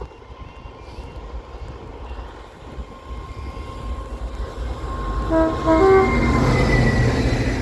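A freight train bound for Felixstowe Port approaches with a rising rumble that grows steadily louder, and near the end a sustained horn blast sounds over the heavy rolling noise.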